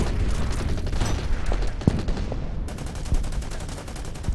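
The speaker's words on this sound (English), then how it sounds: "Start firing on this one instead." Gunfire and explosive booms from the turn-based strategy game Order of Battle, US Marines at Saipan, a dense rumbling barrage of shots with a few sharper bangs, continuous and fairly loud throughout.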